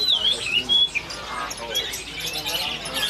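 A green leafbird at a bird kiosk in Pramuka market, Jakarta, gives shrill whistled chirps and squawks, close and bright over a noisy market background with people talking.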